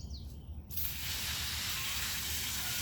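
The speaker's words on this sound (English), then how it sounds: "use my hose and spray it down and get off as much of the dirt as I can" A garden hose sprays water outdoors to wash dirt off freshly harvested garlic, a steady broadband hiss that switches on after a short quiet moment and then runs continuously and fairly close.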